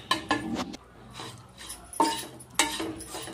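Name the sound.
stirring dates ladoo mixture in ghee in a pan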